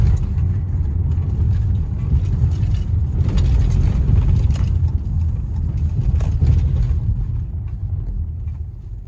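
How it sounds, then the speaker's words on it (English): Light rattles and ticks from sunglasses in a roof cubby and a baby seat in the back of a 2015 Jeep Cherokee Limited, scattered over a steady low road rumble while driving. "any noise you're hearing is coming from the sunglasses in the roof cubby and from the baby seat in the back"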